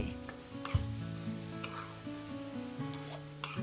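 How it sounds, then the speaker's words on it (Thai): Peas sizzle as they are stir-fried in a pan for a Thai stuffed omelette filling, a steady close hiss with occasional scrapes and light clinks of the utensil against the pan. "แล้วก็เอาถั่วลันเตาลงผัดสุดท้ายเลย แล้วก็ผัดให้ฉ่ำๆค่ะ"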